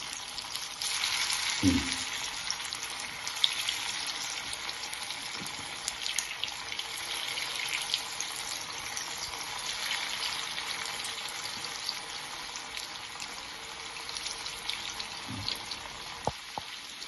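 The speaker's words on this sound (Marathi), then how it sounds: "वडे असे हे तेलामध्ये सोडून फ्राय करून घ्यायचं" Vadas deep-fry in hot oil with a steady, soft bubbling sizzle close by, broken by a couple of louder splashy bursts as pieces drop in, with no talking.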